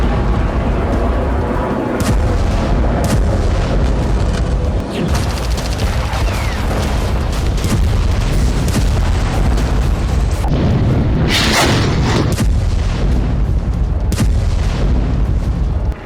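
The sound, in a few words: explosions from Israeli bombardment of Gaza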